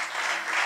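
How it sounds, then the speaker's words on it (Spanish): Applause from an audience at a live comedy show in a cultural centre in Osorno, Chile: a brief, steady wash of clapping, fairly quiet and distant. "Aplausos también, ¿eh? Aplausos también."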